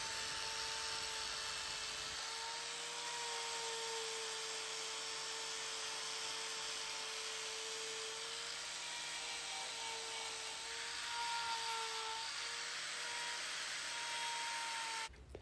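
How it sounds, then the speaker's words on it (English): A fine 360-grit flap wheel smooths metal on a Norton Nemesis V8 motorcycle part, producing a continuous high, steady whine with a faint grinding hiss that shifts slightly in pitch, loud and close with no talk. "I'm using a very fine grit flapper wheel, about 360 grade I believe"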